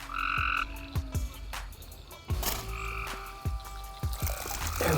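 Frogs croak in a steady chorus at night around water during a frog gigging outing, with repeated sharp low calls and brighter trilling voices overlapping, fairly close and continuous for the whole stretch.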